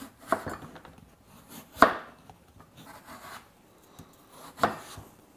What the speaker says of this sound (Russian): Нарезаем тыкву мелкими кубиками